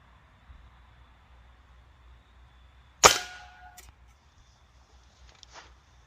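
A single sharp crack from a Ruger Air Hawk Elite II air rifle during backyard can plinking, with a brief metallic ring trailing off, set against a quiet outdoor background with faint low hum.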